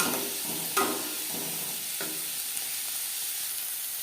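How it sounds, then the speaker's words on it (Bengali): Carrot and capsicum fry lightly in a pan, a steady close sizzle and hiss running throughout, broken by a couple of sharp stirring clinks. "গাজরের সাথে ক্যাপসিকামও হালকা করে ভেজে নেব।"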